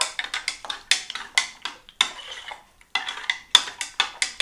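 A metal spoon stirs about a liter of warm water in a vessel for rhubarb winemaking, giving quick, bright clinks against the sides in uneven bursts, close and moderately loud, with a short lull midway and no talking.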